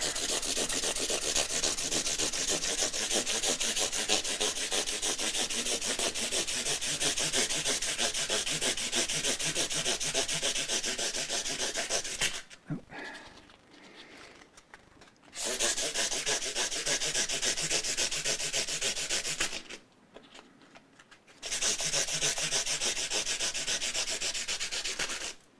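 Steady, harsh back-and-forth rasping as 400 grit sandpaper works over the body of an Epiphone Les Paul Junior, close and loud, with two short pauses before the sanding resumes.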